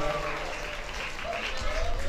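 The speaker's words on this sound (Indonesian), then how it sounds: "Tepuk tangan untuk saudari Nurul Komariah" An audience applauding a young woman who has memorised 22 juz of the Quran, as a broad, steady wash of clapping that continues throughout.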